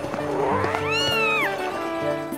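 A remlet, the cat-like creature from Skyward Sword, lets out a single close, drawn-out meow that rises and falls, heard alone without talk.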